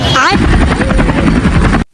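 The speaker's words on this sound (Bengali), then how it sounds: "এই মাত্র আমরা হেলিকপ্টার থেকে ল্যান্ড করলাম" Loud, close helicopter rotor thumping in a rapid steady rhythm just after landing, with a voice briefly audible at the start before the sound cuts off abruptly.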